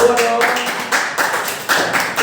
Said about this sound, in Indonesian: Tepuk tangan buat kelompok 2 dong.